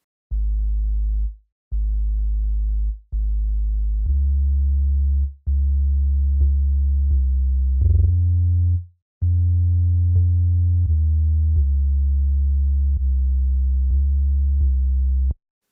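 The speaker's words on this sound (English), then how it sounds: "this patch in Operator, which is just a sine wave, and it's pretty much just filling out the low end" Deep, pure sine wave bass notes from an Ableton Operator patch hold and step between pitches in a steady pattern, with brief gaps between phrases; smooth, loud low end, no voices.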